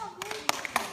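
A small group claps together in a short burst of scattered hand claps, several sharp slaps spread over about a second, close and moderately loud with no talking.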